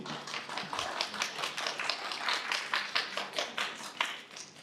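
Audience at a school board meeting claps in a distinct, uneven burst of individual hand claps, fairly close and moderately loud, sustained for several seconds without speech.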